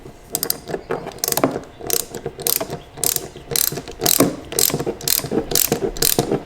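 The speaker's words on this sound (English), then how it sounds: "You're going to be rotating to the left or counterclockwise to loosen the spark plug." Ratchet clicking steadily in quick repeated bursts while loosening a spark plug on a Piaggio MP3 scooter, close and fairly loud with short pauses between strokes, no talking.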